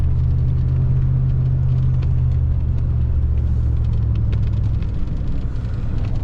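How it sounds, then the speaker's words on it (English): A Ram pickup truck fitted with a DK2 plow pushes through a snowdrift in a snowstorm, giving a steady, loud engine rumble and road drone that stays continuous without pause. "We'll drive through the snowdrift."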